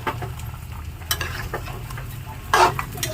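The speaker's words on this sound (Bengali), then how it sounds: "এই দিকে আমি আলু ভেজে নিচ্ছি ওটা কষিয়ে নিচ্ছি" Potatoes fry and are stirred in a pan, a soft crackling sizzle broken by a few sharp utensil scrapes, with one louder clatter near the end.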